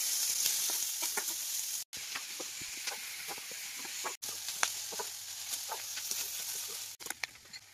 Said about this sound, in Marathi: कांद्याला आपल्याला ब्राऊन रंग येईपर्यंत आपल्याला भाजून घ्यायचं आहे.